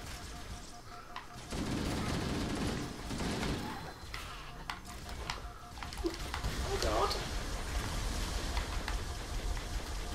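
Rapid gunfire bursts from the Halo: Combat Evolved video game, crackling in clusters over steady background noise, with players talking over the shooting.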